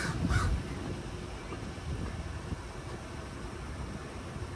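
A crow caws twice in quick succession near an outdoor walkway at a Disney beach resort, loud at first, then only a steady wash of ambient noise.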